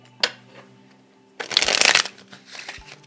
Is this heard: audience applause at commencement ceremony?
no